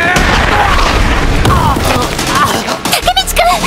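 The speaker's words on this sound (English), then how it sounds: "This dude punches sounds like literal gunshots." Sharp, loud punch impacts crack like gunshots in quick succession over a busy, noisy background, with voices shouting briefly near the end; from the anime Tokyo Revengers.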